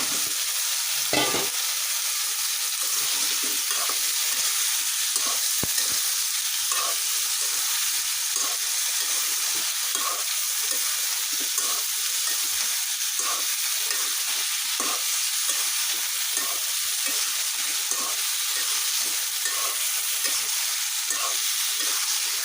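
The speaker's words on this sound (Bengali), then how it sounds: "আগে আলু বেগুনটা কষিয়ে নিয়ে" Potato and eggplant stir-fried in a pan, a loud continuous sizzle and hiss with repeated rhythmic scraping stirs running throughout.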